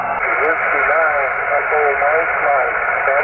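A weak ham radio signal comes in on a river coil antenna: a continuous, narrow-band hiss of static with a faint, warbling voice buried in it, steady and loud throughout.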